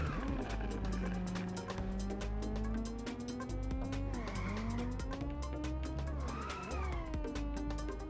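Tyres squeal without a break as a car drifts in the racing game Inertial Drift. The wavering, pitch-bending squeal rides over a low engine drone and swoops up and down as the slide angle changes.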